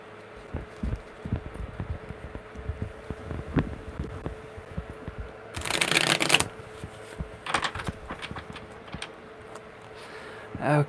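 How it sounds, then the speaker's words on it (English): A deck of tarot cards shuffled by hand, with soft scattered card taps and slides leading into one loud, dense riffle burst, followed by a few lighter shuffling flicks. "one more good shuffle, because that was a really good shuffle"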